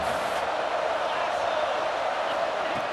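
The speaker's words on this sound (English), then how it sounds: "The crowd is really getting into it." A stadium crowd roars in the video game College Football 26, a loud, continuous wash of cheering that holds steady throughout.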